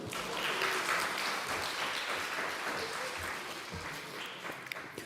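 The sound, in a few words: audience clapping in agreement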